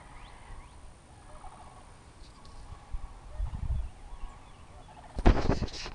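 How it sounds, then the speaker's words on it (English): Outdoor ambience with scattered bird calls, including a gobbling fowl sound midway and a sharper burst near the end over a quiet background. "I hear a bunch of birds in the background"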